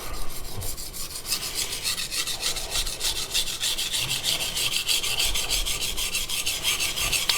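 A Yoshikazu Ikeda honyaki gyuto, 210mm in White #2 steel, being sharpened on a whetstone: steady, rhythmic back-and-forth rasping strokes, close and continuous throughout, with no voices.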